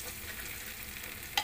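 Ginger garlic paste sautés briefly in a pan, a faint, even hiss of frying ending in a single light clink.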